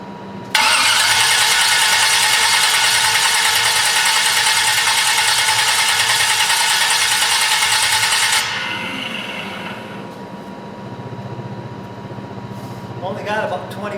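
An engine on a test run stand catches and starts after cranking, then roars loudly and steadily for several seconds before dropping to a lower, rougher idle, with faint clatter near the end.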